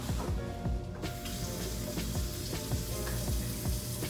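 Food simmers and fries in a pan in a hotel kitchen, with a steady close bubbling sizzle and scattered clinks and taps from a utensil. No voices.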